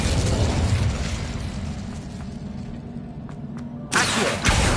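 A fire spell cast in Hogwarts Legacy: a loud, dense burst of roaring noise that fades into a quieter rumble, then flares again with a sharp, bright whoosh near the end.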